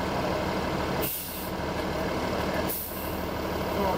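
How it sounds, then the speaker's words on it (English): A soda delivery truck reverses on a city street with a loud steady engine rumble, two sharp hissing air brake releases cutting through the noise. "These goddamn soda buses, bitch. They go back."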